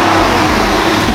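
BMW M2 G87 engine with its exhaust valve closed, revving in a steady, loud, broadband roar with a deep low-end rumble that holds throughout, close by and with no talk.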